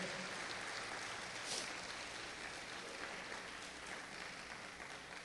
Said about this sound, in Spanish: Déselo al Señor ese aplauso